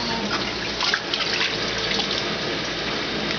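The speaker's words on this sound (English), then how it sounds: "You splash it." A small child splashes bath water, continuous close watery sloshing and trickling with a few brighter splashes, no voices over it.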